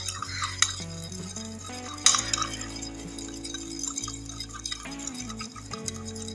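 Turmeric powder mixed into a banana chips mixture with a spoon in a bowl, producing intermittent clinks and scraping stirs against the vessel, close and fairly quiet, with a louder knock near the middle.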